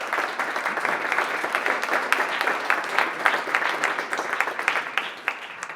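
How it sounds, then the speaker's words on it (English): An audience at an evening talk event applauds a sponsor, with many hands clapping in a lively, continuous burst that holds steady before starting to taper. "so if we can give them a round of applause."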